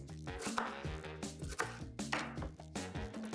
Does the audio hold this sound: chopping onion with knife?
yes